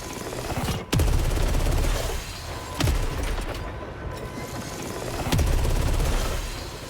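Alternate-fire weapon shots in the video game SAROS: three heavy, sharp blasts spaced about two seconds apart over a dense, continuous rattle of rapid fire, loud and close, with no talking.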